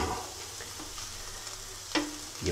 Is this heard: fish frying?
yes